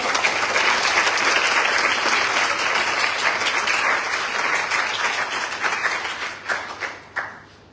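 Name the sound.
audience applauding the debaters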